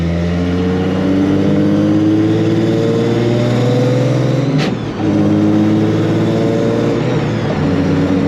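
A supercharged Nissan 350Z engine revs loudly while driving, its harmonics climbing and holding, then a quick shift gap before the note rises again from inside the car.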